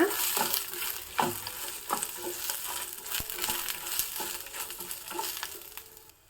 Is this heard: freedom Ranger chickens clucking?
no